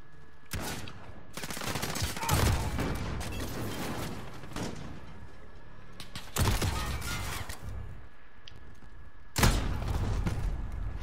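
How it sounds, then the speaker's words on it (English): Heavy gunfire in a sniper match, with two enemies shooting from inside B: dense bursts of shots come in several loud waves, with sharp peaks near the start, the middle and the end. "I do not like getting shot at by two different people."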